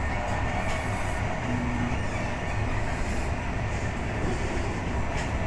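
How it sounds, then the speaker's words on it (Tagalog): A moving train on the way to Amsterdam rumbles steadily from inside the carriage, with continuous track noise and faint rhythmic clatter and no talking. "Ang bilis ng train natin."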